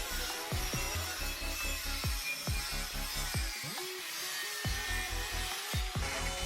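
Rasping, grinding tool work deburring the sharp edges of a welded TIG metal underbench shelf, rhythmic back-and-forth strokes close by, repeating with short pauses.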